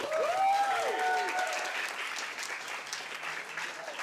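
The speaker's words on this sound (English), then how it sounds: "So everyone give a big warm round of applause for Dr. Edward Liu." Warm round of audience applause at an astronomy talk held in a bar, many hands clapping with a few cheers and whoops rising early on, then settling into a steady, slightly fading patter.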